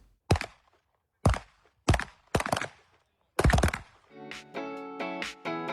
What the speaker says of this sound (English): That was the sound of a Glock 17 pistol.